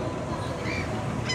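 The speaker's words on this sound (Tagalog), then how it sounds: "nagliliparan yung mga ibon kasi this is the ferry side" Birds flying near the ferry side in Finland give a brief goose-like honk over a low background rumble, moderately close and alone without talk.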